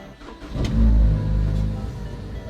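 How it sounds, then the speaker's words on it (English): A car engine cranks and catches, then revs up to a loud, close roar that holds and settles into a steady idle-high drone. "and then long press until the engine is on."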